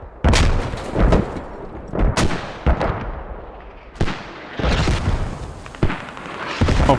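Repeated heavy mortar impacts and launches in the Squad military shooter game, deep booming blasts every second or two with rumbling tails, loud and close, overlapping in a sustained barrage.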